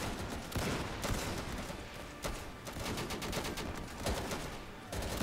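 Rapid gunfire in the World War II shooter Easy Red II, dense overlapping bursts and single shots crackling steadily throughout, moderately loud, with distant battle noise and no talking.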